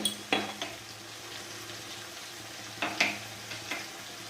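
Turmeric and meat masala frying for a simple fish curry in a pan, a soft low sizzle with occasional scrapes and clinks of a stirring utensil against the pan, close and quiet with no talk.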